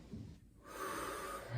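A single deep inhale during a gentle arthritis exercise class comes as a soft, airy breath drawn in close to the microphone, faint and brief.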